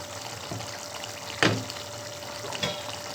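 Cauliflower and fish pieces cook in a pan for a coconut milk kurma, giving a soft, steady bubbling hiss with two sharper clatters of a utensil, quiet and close.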